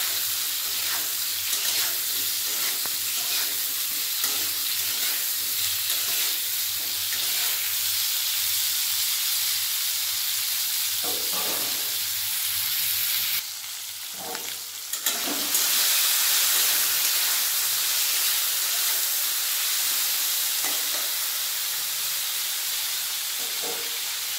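Peanuts and drumstick pieces frying in hot oil for a vegetarian vegetable dish, giving a steady, close hiss and sizzle throughout, with a brief louder burst of spattering midway and no talking.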